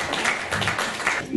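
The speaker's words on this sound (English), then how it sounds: "Please give a big round of applause for Chris." Audience applause at a fashion show, steady broadband clapping that holds evenly for the whole short stretch without voices.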